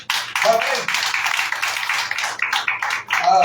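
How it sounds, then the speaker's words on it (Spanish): Church congregation clapping in applause, a dense continuous patter of many hands, loud and close, running steadily throughout with brief dips. "Den un fuerte aplauso al Señor."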